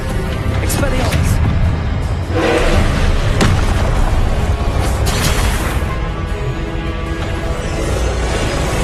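Spell-casting effects from the Hogwarts Legacy PC game, an Expelliarmus cast: a dense, loud run of booming bursts and thuds with a couple of sharp crackling hits, continuous for several seconds.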